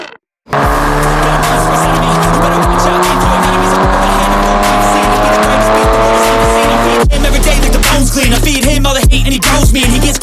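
A car being mapped and tuned revs hard and steadily for about ten seconds, loud and close, with a brief drop in pitch midway before it climbs again, with no talk.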